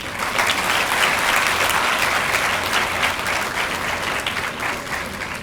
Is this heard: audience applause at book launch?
yes